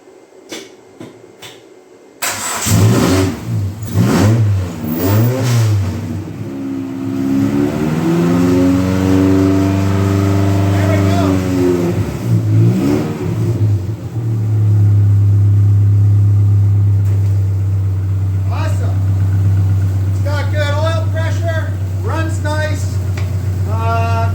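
A Dodge Neon stock car engine cranks and catches, then revs up and down repeatedly before settling into a loud, steady roar; close and dominant throughout.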